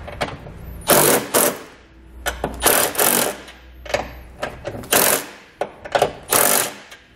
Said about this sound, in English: For the two flange nuts on our U-bolt, you can use a 9/16 socket or a 14 millimeter socket to snug them up.